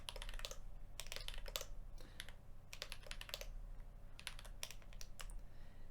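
Fingers tap on a computer keyboard in quick bursts of clicking keystrokes, pausing briefly between groups, while a Linux path is typed into a terminal.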